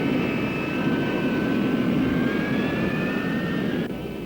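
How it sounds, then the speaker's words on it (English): North American F-100 Super Sabre jets roll out of protective revetments for an attack mission, a steady loud jet-engine roar with rising whine tones that holds throughout, then drops slightly near the end. "North American F-100 Super Sabers designed 17 years earlier leave their protective revetments on an attack mission with GP bombs"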